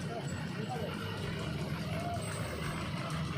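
Buses idling at a roadside stop, a steady low engine rumble with traffic noise throughout, people talking over it.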